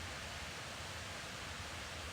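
The Shypit waterfall in Zakarpattia gives a steady, broadband roar of falling water that stays even and continuous throughout, with no voices over it.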